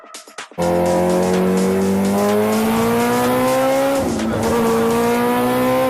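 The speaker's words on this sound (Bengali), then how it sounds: "গাড়ির একটু টেস্ট ড্রাইভ দিবেন, দেন।" A car on a test drive starts up loudly and close by, its engine droning and rising steadily in pitch as it accelerates, with a brief dip and recovery partway through, after a few short knocks at the start.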